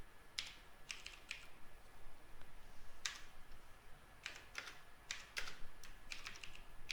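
Computer keyboard being typed on in a few quick clusters of light clicks with short gaps between, faint against a quiet room hiss.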